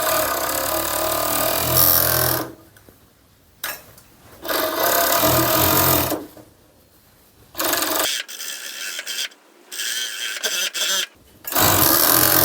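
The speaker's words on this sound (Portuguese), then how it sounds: "Aqui no overlock, para esse caso específico, eu estou usando a máquina com uma agulha só" A one-needle overlock serger finishing the edge of a fabric tote pocket, running in several loud, rapid mechanical bursts separated by pauses, close up with no voices.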